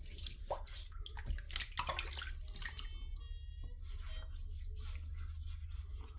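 Water splashes and drips faintly at a sink as a face is wetted before a shave, with soft trickling and scattered small splashes over a low hum.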